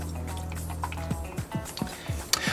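Lime juice, simple syrup and gin poured into a cocktail shaker, a series of short gurgling glugs and drips at a steady rhythm, close up, ending with a light clink.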